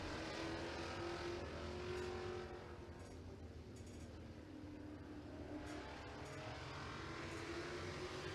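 A race car on a qualifying lap at Tazewell Speedway roars steadily at a distance, its engine note rising and falling as it circles the track, with faint crowd or ambient noise underneath and no speech.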